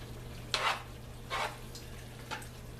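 Fried cabbage with hot sauce stirred in a pot, three brief scraping sweeps of a spoon against the pot over a low steady hum, soft and fairly close.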